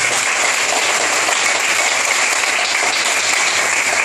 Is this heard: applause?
yes